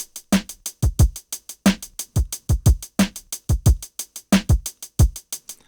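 A drum beat plays back in Pro Tools, a steady loop of low kick thumps and a snare over closely spaced hi-hat ticks, repeating evenly and loud with no voices.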